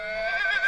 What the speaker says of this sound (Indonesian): ini kuda adik-adik